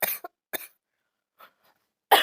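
A person eating ghost pepper noodles coughs in short, sharp bursts, two quick coughs at the start followed by a fainter one and a stronger cough at the end, close and separated by silence.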